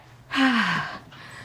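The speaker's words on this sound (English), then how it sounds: "I'm breathing heavy" A single heavy, audible breath, a loud gasping inhale that trails off over about half a second, close to the mic, with quiet room tone around it.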